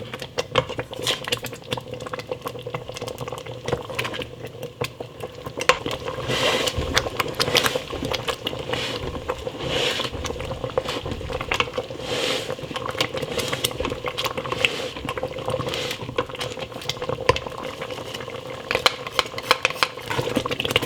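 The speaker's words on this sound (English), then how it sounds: "I want to stir this continuously so that it doesn't stick to the bottom of the pot" Cranberry strawberry jam being stirred continuously in a pot as it cooks, a steady low bubbling and scraping texture with a constant background hum, no talking.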